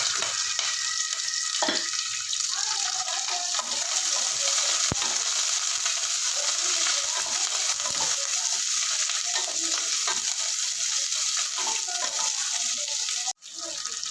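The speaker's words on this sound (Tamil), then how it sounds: "கடுகு வடிக்கிறது" Mustard seeds spluttering in hot oil in a pan, a loud continuous sizzle with scattered sharp pops, close up and steady throughout.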